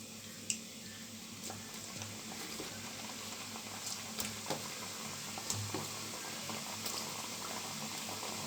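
Khajur sweet dough frying in hot oil, a steady bubbling sizzle with occasional soft pops and crackles, heard alone without talk.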